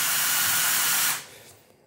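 A hobby-scale model air compressor runs with a loud, steady airy hiss for about a second, then cuts off and fades quickly to a faint residual hum.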